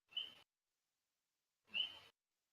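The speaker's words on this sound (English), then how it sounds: "Does someone have a bird where they live?" A bird in a participant's background gives two short whistled calls, about a second and a half apart, faint and alone with silence between.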